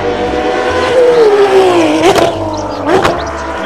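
Toy race car being played with, giving a steady engine-like drone with gliding pitch and two sharp whooshing bursts, close and fairly loud with no talking.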